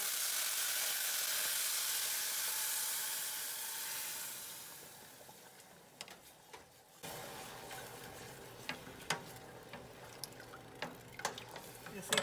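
Meat broth poured onto browned rice in a hot pot: a loud hiss that fades over a few seconds, then gentle bubbling and small clinks while someone talks.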